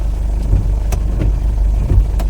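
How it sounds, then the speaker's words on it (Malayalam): A bus drives along a road where floodwater has spilled across the surface, its engine a steady low rumble with faint passing whooshes. "അകലേന്ന് ഒരു ബസ് വരുന്നുണ്ട്."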